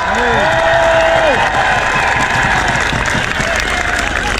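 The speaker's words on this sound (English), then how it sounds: "Give her a round of applause" A large crowd at a 2020 freedom protest in Trafalgar Square, London, breaks into loud, sustained applause and cheering, with a raised voice briefly cutting through at the start.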